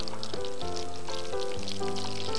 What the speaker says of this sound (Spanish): Y ahora los freímos, ¿eh? los freímos como si esto es patata